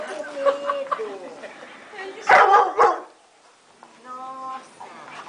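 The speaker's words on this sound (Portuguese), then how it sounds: "Olha, tá fazendo amizade. A cachorrinha." A small female dog yips and barks in a few short bursts between people talking in Portuguese, close and moderately loud.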